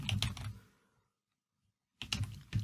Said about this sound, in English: start typing the values that you want